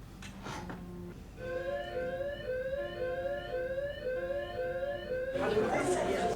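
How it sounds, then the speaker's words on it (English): In the film Arrival, an electronic alarm sounds as a steady series of repeating two-part tonal pulses, loud and continuous for several seconds, with faint voices and a burst of noisy commotion at the start and end. "Seems like a different kind of alarm."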